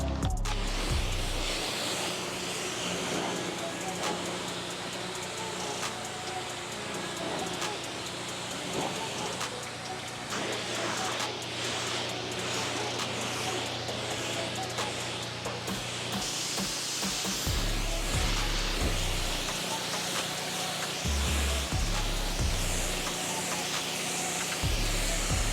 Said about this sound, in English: Now it's time to rinse it down.